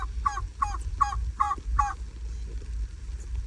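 A bird gives five evenly spaced, honking calls against a steady low background rumble, then falls quiet.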